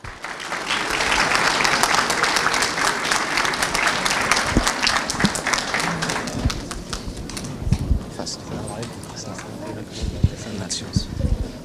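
Conference audience applauding a speaker as he is welcomed to the stage, a dense, steady clapping that fills the room for several seconds, then thins out into scattered claps and a few louder individual hand claps near the end.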